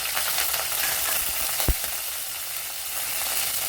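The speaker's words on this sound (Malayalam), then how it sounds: "ഇവിടെ ഇപ്പം കടുക് ഇട്ട് കൊടുത്തിട്ടുണ്ട്. അതൊന്ന് പൊട്ടണം." Mustard seeds and fenugreek sizzle in hot oil with a close, steady crackling hiss, broken once by a single sharp pop, and no one speaking.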